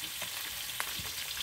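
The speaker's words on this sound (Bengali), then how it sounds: "মাছটা আমি বেশি ভাজবো না, সামান্য অল্প পরিমাণ ভেজে নিয়ে উঠিয়ে নেবো।" Fish fries briefly in hot oil with a dense, even sizzle and a few soft pops or clinks, close by and without talk.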